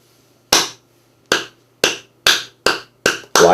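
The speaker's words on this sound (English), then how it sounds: "then you can use a literal clap" Seven sharp hand claps used as a sync marker, spaced roughly half a second apart after a short pause, loud and close with no talking.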